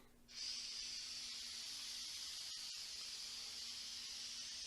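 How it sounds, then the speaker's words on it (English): Spray adhesive hisses out of a can in one steady, loud jet that starts abruptly and runs unbroken, with a couple of tiny breaks near the middle, during drywall corner bead finishing work. "Spray adhesive liberally. It has a pretty good stream on it."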